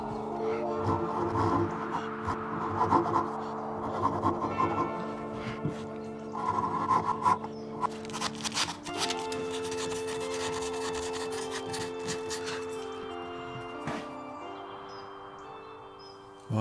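A hand file rasps across the end grain of rippled sycamore during a screwdriver build, steady back-and-forth strokes close up with tonal ringing underneath and no talk.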